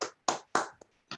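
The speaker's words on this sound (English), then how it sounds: "I would like you all in joining me in giving a round of applause" A sparse round of applause during a World Multicultural Festival 2021 panel discussion: five sharp, separate hand claps, close and fairly quiet, with short silences between them.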